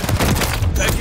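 Dense, rapid gunfire from Call of Duty: Modern Warfare 3 multiplayer gameplay fills the moment, a loud continuous barrage of overlapping shots with no pause.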